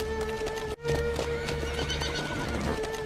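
Horses neighing and whinnying loudly, with the clop of hooves mixed in, a steady close-up stretch of animal calls.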